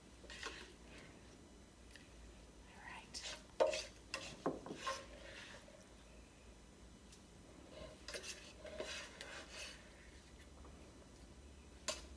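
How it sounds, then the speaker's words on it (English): Eggplant pasta bake ingredients are stirred in a pot, with soft scraping and occasional clinks of the utensil against the pot, heard faintly and intermittently with no voices. "Give this a big stir together."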